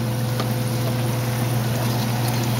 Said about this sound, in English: It's going to take you about 3 minutes to fry them.